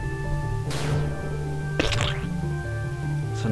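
In the video game Secret of Evermore, a bronze axe disintegrates walls with three short crumbling bursts over steady background music.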